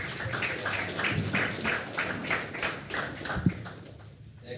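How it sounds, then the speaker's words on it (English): A small crowd claps in a steady burst of applause at a high school football media day, evenly sustained, with one sharper knock near the end as it fades. "How about a big round of applause for the"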